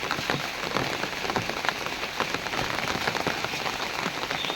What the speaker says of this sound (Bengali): তো দেখি মা কি কি রান্না করে এই বৃষ্টির মধ্যে